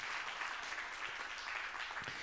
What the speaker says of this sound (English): Clap real strong if you've had this happen.